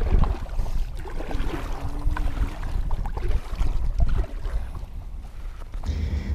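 A small fishing boat crosses a windy lake, its continuous low rumble mixing with gusty wind buffeting the microphone and splashing water throughout.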